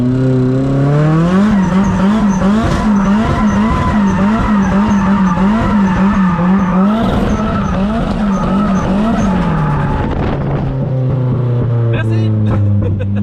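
A 500 hp Nissan S14 drift car screams at high revs with a wavering engine note as it slides, tires squealing loudly throughout, the revs dropping near the end as it backs off.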